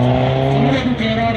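A Peugeot 206 HDI rally car runs flat out on a sprint rally stage in Oradea, its engine droning loudly and close with shifting pitch as it moves along the track.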